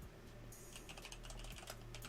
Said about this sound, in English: I'm typing to the players right now.